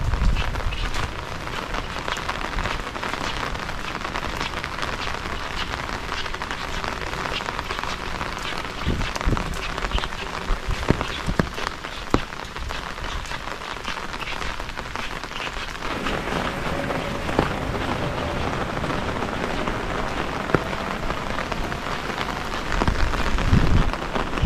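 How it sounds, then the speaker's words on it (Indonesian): Heavy storm rain pours steadily over a Japanese village street, a dense continuous hiss of drops hitting surfaces with occasional louder splashes, alone and unbroken throughout. "Hujannya agak mulai reda"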